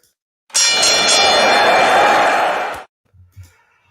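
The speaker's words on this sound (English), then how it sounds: "I'm going to ring the bell" A bell rung on a wrestling news show sounds once as a single bright, sustained ring, loud and close, lasting about two seconds before it cuts off. A couple of faint low knocks follow.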